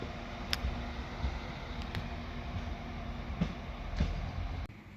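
A passenger train pulls out of Oxenholme station in the Lake District, bound for Windermere: a steady rumbling roll with faint clicks and ticks of wheels over rail joints, holding at an even level throughout.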